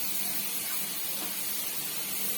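Potatoes and masala sautéing in oil in a pan on a low simmer give a dense, even sizzle and hiss, close and continuous, with no voices.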